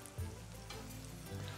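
Cornflake-coated chicken nuggets fry side by side in a pan, a faint, steady sizzle with a low hum underneath and no talking.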